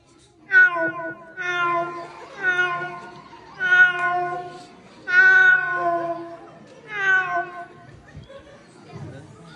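A boy imitates a cat, giving five drawn-out meows in a row with short pauses between them, close and clear.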